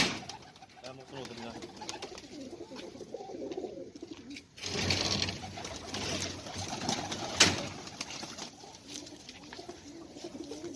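Black-faced pigeons coo on and off at a rooftop loft, low throaty murmurs mixed with voices talking nearby and a few sharp knocks and rustles.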